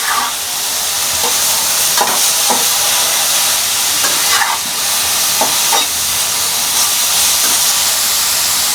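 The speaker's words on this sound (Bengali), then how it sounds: "এখন আমি এই ফুলকপিগুলোকে খুব ভালোভাবে ভেজে নেব।" Cauliflower florets frying in a pan for a cauliflower and red lentil dish give a steady, loud sizzle and hiss throughout, with occasional stirring scrapes and pops.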